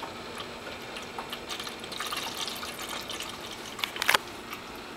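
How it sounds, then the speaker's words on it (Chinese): Water running in a cat drinking fountain, a steady soft trickle and light splashing close by, with a brief louder burst of splashing near the end. "喷水池的水可以调小，"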